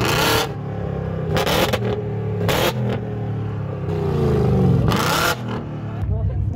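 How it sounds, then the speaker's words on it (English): Race cars pass on a GP circuit during practice runs, with loud engine roars rising and falling as several vehicles sweep by one after another. Steady engine noise fills the gaps, and there is no clear talking. "some cars driving on the GP track where we are currently at"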